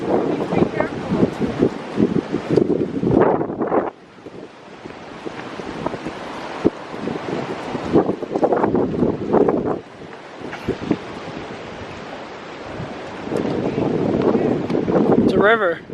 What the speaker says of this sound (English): Holy shit, it's so windy.